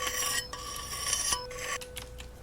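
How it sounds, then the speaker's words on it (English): Scraping and rasping of a handbag being sharpened in a knife sharpening video game, a steady grinding rub with bright metallic tones, broken by two short pauses, fairly close and with no talk. "I've never sharpened a handbag in my life"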